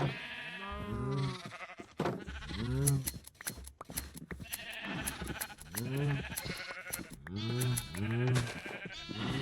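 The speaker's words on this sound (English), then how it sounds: "There are a lot more sheep in there now." Sheep in the Minecraft video game bleat over and over, several overlapping calls in an uneven rhythm, fairly close and clear, with no talking over them.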